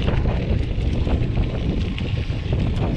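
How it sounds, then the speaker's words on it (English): Steady, loud wind roaring across the microphone while riding a SameBike L026 Version 2 e-bike off road around Woodingdean, with constant low rumble and gusty buffeting throughout. "there is going to be a bit of wind here and there"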